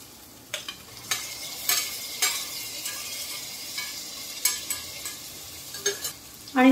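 Tomatoes added to onion and ginger-garlic paste sizzle softly in a pan, with scattered spatula scrapes and stirs over a low, steady frying hiss, close by and without speech, ending on a louder clatter.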